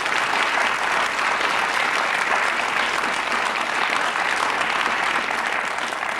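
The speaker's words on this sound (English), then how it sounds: "So here they are again, and they deserve another round of applause" Steady, dense studio audience applause on a Countdown Championship of Champions final, welcoming the two finalists; loud and unbroken for the whole stretch with no voices on top.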